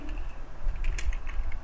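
Keys clatter on a computer keyboard as a message is typed, a quick irregular run of light taps under a steady background hum.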